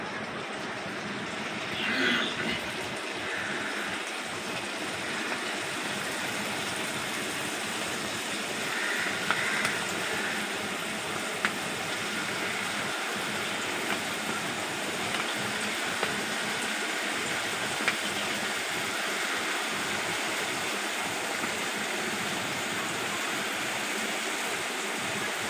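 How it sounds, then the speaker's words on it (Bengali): Jalebi frying in hot oil, a continuous dense sizzle and crackle heard close and steady throughout with no talking. "আমি আবারও ভেজে নিচ্ছি।"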